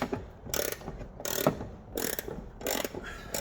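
A hand ratchet loosens a subframe bolt inside the chassis rail of an Alfa Romeo 145, giving repeated bursts of close, rapid clicking separated by short pauses, with no talking.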